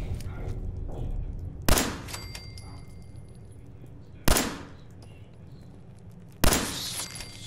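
Three loud, sharp gunshots ring out in Fallout 4, each a sudden blast spaced about two and a half seconds apart, with a ringing tail decaying into a low background rumble of ambient game sound.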